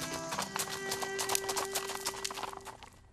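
Hooves of Palomino horses clip-clop in a quick, steady rhythm, fairly close, with a sustained tonal hum running underneath.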